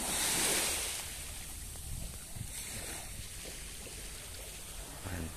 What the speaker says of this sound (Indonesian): suara ombaknya merdu.